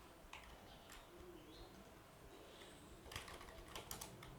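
Quiet typing on a computer keyboard while coding, a few soft scattered key clicks with a short denser burst near the end over faint room hiss.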